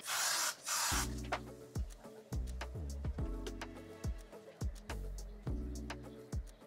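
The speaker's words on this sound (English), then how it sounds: "we went ahead and added the OG, the Got To Be Glue spray to it" Got To Be Glue hair spray is sprayed onto a wig: a loud, close hiss of about one second, after which steady music takes over.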